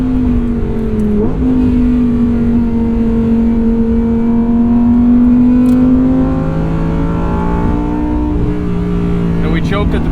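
Lamborghini Huracan Technica supercar engine droning at steady revs from inside the car, a strong low tone that climbs slightly, eases off and settles, with people talking over it.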